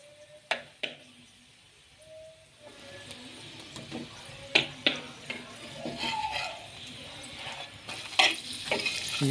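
Beef keema paratha frying in ghee on a pan gives a quiet, steady sizzle, with scattered sharp pops and clicks from the pan.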